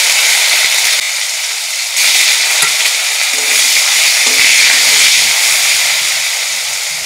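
Chopped tomato dropped into hot oil with a black cumin tempering, a loud continuous sizzle and hiss with light stirring, no talk.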